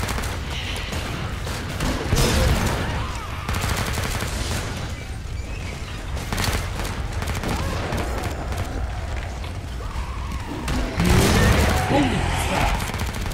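Rapid gunfire and bursts in the video game Killing Floor 2, with loud volleys and heavy impacts around two and eleven seconds over continuous combat noise and occasional voice.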